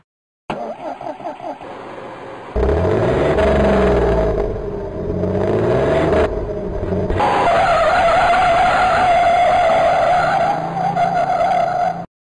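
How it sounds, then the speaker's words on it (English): A bus engine roars loudly, then the bus brakes hard with a long, sustained tire screech close by, and no one speaks. "Why did the bus screech?"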